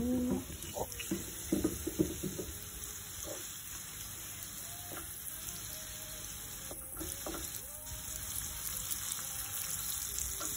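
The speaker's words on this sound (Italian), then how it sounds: "Ecco, li facciamo rosolare per benino" Chicken breast browning in a little oil in a pan, a steady soft sizzle running throughout with a few light clinks and stirring knocks early on, no talking.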